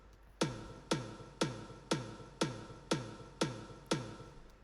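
Eight evenly spaced hollow bucket drum hits on a steady pulse, each a sharp thump with a short decay, moderately quiet and alone.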